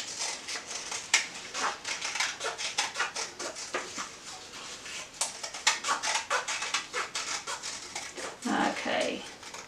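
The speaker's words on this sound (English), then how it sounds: "I'm going to cut that out." Scissors cutting an Easter egg shape out of cardboard, a run of quick crisp snips and rustles at close range, irregular in rhythm, with a few soft handling noises near the end.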